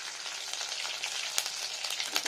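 Ginger fries in ghee in a pan with a soft, steady sizzle and a few sharper crackles and spatters, heard alone at low volume.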